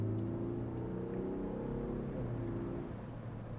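A 2022 Land Rover Defender 90 with a four-cylinder engine gets up to speed on a road, a steady, loud drone of engine and road noise that holds evenly throughout with no talking.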